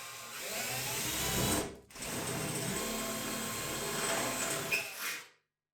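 An electric drill whines steadily as it bores into a metal drum, stopping for a split second, then grinding on before cutting off abruptly.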